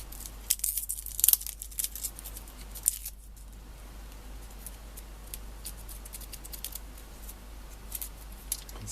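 Broccoli florets snap and crackle as they are pulled apart by hand, a series of faint, crisp tearing and clicking sounds, quiet and close, scattered irregularly without talk.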